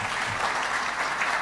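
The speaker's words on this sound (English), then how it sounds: "Please, let's give her a better clap than that." An audience at a regional address claps steadily, a brief, even wash of applause with no pauses.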